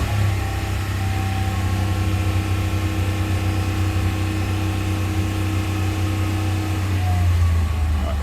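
A 2016 Ram 1500 pickup engine under misfire repair runs steadily nearby, a loud continuous drone with a low hum and no clear rise or fall in pitch.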